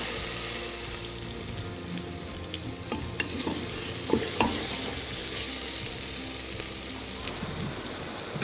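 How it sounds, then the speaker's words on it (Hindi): Masala spices for a chicken aloo matar curry frying in a pan, a steady sizzle with occasional scrapes and clinks of stirring, close and continuous with no talk. "मसाले को हमने अच्छी तरह से भून लिया है।"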